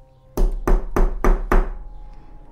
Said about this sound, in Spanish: haciendo más intenso el golpeteo de la puerta